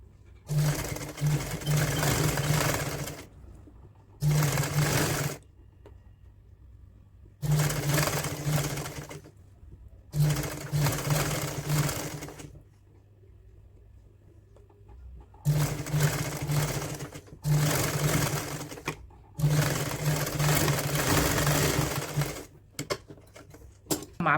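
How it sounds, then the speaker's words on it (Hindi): A sewing machine stitches a woollen kurti in repeated bursts of rapid whirring, each lasting a few seconds and separated by quiet pauses, close and loud with no talking over it. "अब हम सिलाई करेंगे इस पे।"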